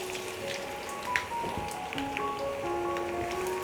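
Chopped onions fry in half a cup of soybean oil in a pan for chicken biryani, giving a dense, even crackle like rain with soft tones in the background.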